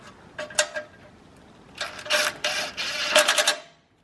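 Metal ratcheting while a nut is threaded back on and tightened on a Mazda CX-5 during downstream oxygen sensor replacement: a short burst of rapid clicks, a pause, then a longer run of clicking strokes, close and fairly loud.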